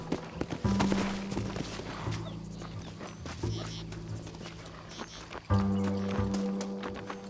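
Horse hooves clip-clop on a trail in the Western video game Red Dead Redemption, a steady walking rhythm running under speech, with an occasional snort or whinny.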